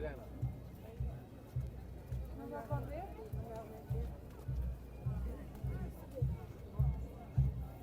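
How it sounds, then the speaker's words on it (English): Rhythmic clip-clop of a mounted police horse's hooves on pavement at a protest in Parliament Square, steady and moderately close, under the murmur of a crowd with scattered voices. "horse-mounted police officer right there"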